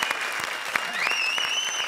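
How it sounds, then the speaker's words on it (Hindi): A studio audience at a comedy show claps loudly and steadily, a dense wash of applause with a rising tone heard over it. "हमारी लाश के लिए जोरदार तालियां"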